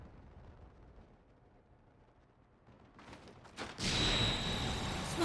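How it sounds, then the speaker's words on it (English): A smoke bomb or flash grenade goes off in the fantasy game Final Fantasy XIV, rising from quiet ambience into a loud burst and sustained hissing roar with a thin ringing tone. "That's more like a flash grenade."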